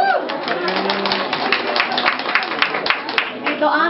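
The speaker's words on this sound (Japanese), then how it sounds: "拍手。" A small crowd at a year-end market event claps in a quick, continuous patter, close by, with a voice talking over the applause.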